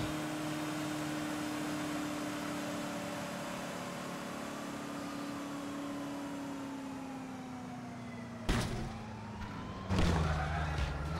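A wailing police siren rises and falls steadily over a constant engine drone during a chase in GTA IV, with a couple of sharp impacts near the end.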